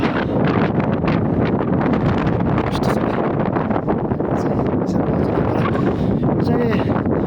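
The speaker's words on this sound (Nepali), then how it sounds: "हावा चल्दैछ" Strong wind on a partly unpaved mountain road on the route between Muktinath and Pokhara, a constant loud roaring rush buffeting the microphone throughout, with no clear talk over it.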